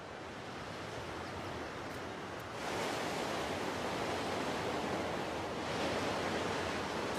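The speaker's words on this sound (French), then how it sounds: "Balayé par le vent, caressé par les vagues, voici la pointe de Rocanelen" Wind sweeping the rocky Pointe de Rocanelen coast at Cléder, Brittany, with waves washing in; a continuous soft roar of surf and gusts that swells louder partway through.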